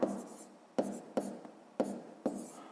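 Close, soft scratching of a pen on paper comes in five short strokes with brief pauses, as a multiplication answer is written out by hand for a sixth-grade math exercise.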